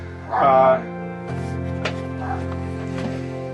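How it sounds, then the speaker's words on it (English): A dog barks loudly in a short burst near the start, then fainter yips and shuffling noises continue under a low steady hum. "As you can hear, the dogs are barking and stuff"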